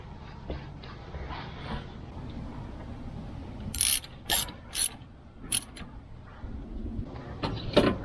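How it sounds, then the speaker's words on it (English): Hand tools clatter and click against metal while power steering tubing is refitted on a 1995 Subaru Legacy, with a soft mechanical background broken by several sharp bright clinks and ratchet-like taps close by. "Now we put these power steering tubing back together."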